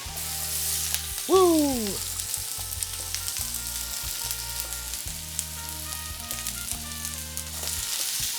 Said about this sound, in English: Peppers popping.